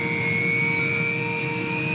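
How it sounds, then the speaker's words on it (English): A K-MAX helicopter's turbine engines start with a loud, steady whine, a high sustained tone slowly rising in pitch over a broad engine roar. "its massive turbine engines spring into life"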